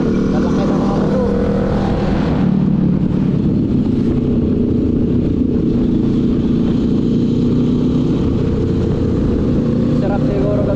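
Big motorcycles pass on a highway during a long-distance road trip across Mindanao, their engines droning loud and steady throughout, with no talking heard.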